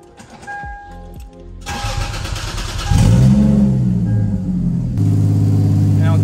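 A Lexus IS300 with a 1JZ engine and a Vibrant exhaust cranks and fires up, then settles into a loud, deep idle after a short stretch of talk at the start.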